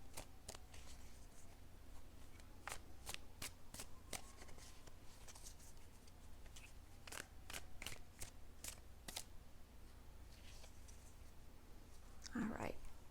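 Quick, crisp riffling bursts of a tarot deck being shuffled, repeated many times at close range, with a soft murmuring voice in the quiet gaps.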